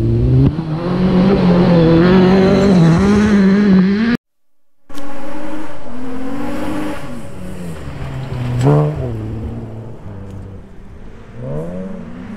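A rally car revs and accelerates hard around a khanacross course, its engine note climbing and dropping through gear changes, loud at first and then fading as it moves farther away.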